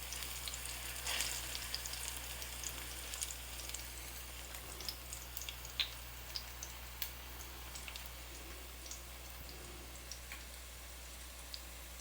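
Plantain slices fry in a pan with a steady, quiet sizzle that runs throughout, dotted with small pops and crackles of hot oil, with no voices over it.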